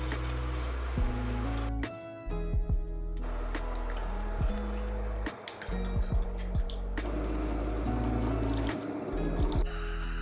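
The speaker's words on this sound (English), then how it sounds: "Start by filling up the pans with water and adding some dish liquid and vinegar." Tap water runs and splashes into stainless steel pans, with gurgling fill sounds broken by a few brief pauses and light metallic knocks, close and fairly loud, with no talking.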